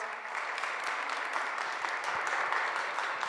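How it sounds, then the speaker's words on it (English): A literature festival audience applauds after a session introduction, the clapping soft and somewhat distant, forming an even, sustained patter throughout. "Can we please give them a round of applause?"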